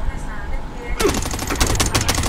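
Rapid bursts of automatic gunfire in Warzone erupt after a second of quieter background, cracking loudly and repeatedly to the end, with an excited voice partly under them.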